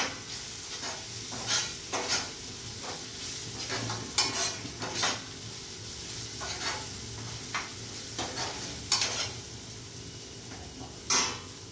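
A spoon scrapes and stirs turmeric and coriander powder with garam masala in a pan. Irregular scraping strokes sound over a soft steady sizzle, close and fairly quiet, with no talking.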